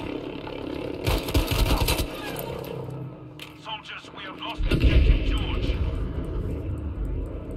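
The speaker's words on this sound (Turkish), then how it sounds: "Ben de kafadan da bomba atıyorum." Bombs explode in Battlefield V gameplay as heavy booming blasts with crackling debris, one burst early and another deeper rumble midway, mixed with game noise while players talk over it.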